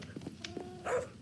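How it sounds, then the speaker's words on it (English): Minecraft dogs making short barks and a whimpering yip, brief and fairly close, with faint background sound. "Are some of these dogs yours?"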